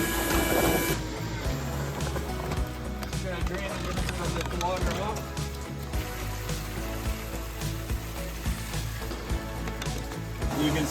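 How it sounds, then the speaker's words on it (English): A wet vacuum draws flooded gutter water and leaf debris along a house roofline, a loud continuous roar with gurgling, slurping surges as water and muck are pulled in, while a person talks over it. "We can vacuum up that water with the debris."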